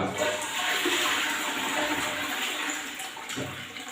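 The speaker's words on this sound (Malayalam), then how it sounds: "ഒന്ന് ഫ്ലഷ് ചെയ്ത് കൊടുത്തു കഴിഞ്ഞാൽ നീറ്റ് ആൻഡ് ക്ലീൻ ആയിരിക്കും ക്ലോസറ്റ്" A toilet flushes with a steady rushing gush of water, close by and continuous, fading slightly toward the end.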